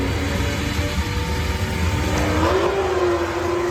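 A Mustang and a Corvette street car race head to head at the Bradenton Motorsports Park drag strip, with loud engine roar and a revving pitch that climbs partway through.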